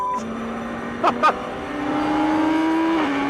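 A Radical race car accelerates on a circuit: a steady engine drone climbs gradually in pitch, heard from a moderate distance, with two brief sharp bursts early on.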